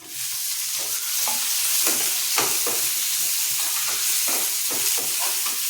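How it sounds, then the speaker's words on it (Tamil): Chopped tomato sautéing in a hot pan with onions for egg momos, a steady loud sizzle and hiss with intermittent scraping stirs of the spatula, continuous and close throughout. "தக்காளி நல்லா வதங்கட்டும்."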